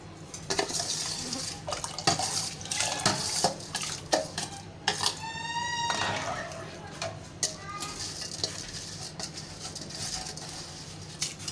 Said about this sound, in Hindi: ठीक, हम चावल डालने लगे हैं इसके अंदर।